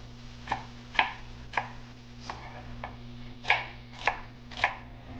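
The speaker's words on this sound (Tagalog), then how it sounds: "ito din ang ayaw ko sa naghihiwa ng sibuyas" Knife chopping onion on a cutting board in a home kitchen, about eight crisp, close taps at an uneven rhythm over a low steady hum, with no talking.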